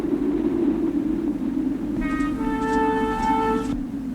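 A low rumbling background gives way to a loud, sustained multi-tone train whistle lasting under two seconds, then the rumble continues.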